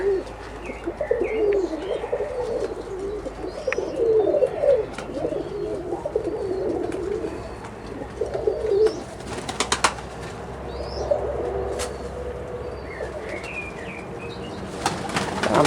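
Russian Statnyje pigeons among rhododendron and azalea bushes, with soft repeated cooing and occasional wing flaps mixed with chirps from other birds, moderately close against steady outdoor background.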